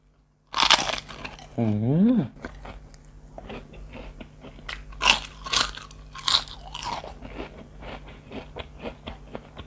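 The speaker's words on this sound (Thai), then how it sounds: "มีความกรอบมาก" Crispy roti tissue, a thin fried flatbread, crunches loudly in a few bites near the mic, followed by chewing, while someone speaks between mouthfuls.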